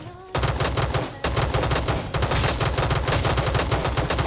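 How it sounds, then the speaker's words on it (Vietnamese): Rapid, dense submachine-gun fire in a Rules of Survival shootout, sustained loud bursts of close shots with only a brief break near the start. "bắn nhau"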